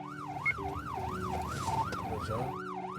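A wailing ambulance siren in Khayelitsha, Cape Town, rising and falling in a steady repeating cycle, loud and close, with traffic rumble underneath.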